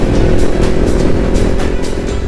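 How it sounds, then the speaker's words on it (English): A Kawasaki Ninja 400 motorcycle engine is revved up close after an oil change at 944 km, giving a loud, steady growl with repeated throttle blips rising over the idle. "Oh, yung motor mo, bombayin mo."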